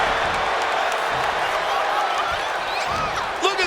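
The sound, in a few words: wrestling arena crowd cheering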